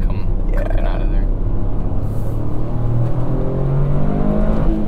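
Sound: 2023 Toyota GR Corolla engine revving, rev matching

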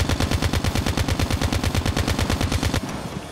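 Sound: KN-44 and ICR-1 gunfire in COD Mobile video game

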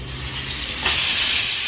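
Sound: fish frying in a pan

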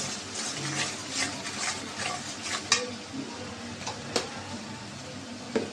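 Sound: stirring and sautéing spice paste with garlic in a pan

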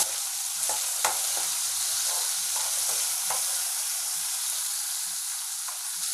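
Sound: tomatoes, onion and green chilies stirred in pan

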